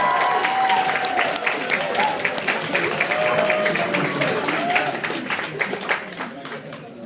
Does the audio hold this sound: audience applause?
yes